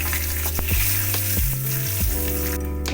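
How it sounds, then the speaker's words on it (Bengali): Whole cumin seeds and bay leaf sizzling in hot oil for a Bengali dish, a steady crackling fry with scattered pops and scrapes close by. "একটু গোটা জিরে ফোড়ন দিলাম"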